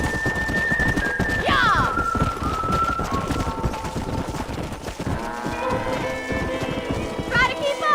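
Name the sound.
horse galloping, hooves clip-clopping, from Red Dead Redemption video game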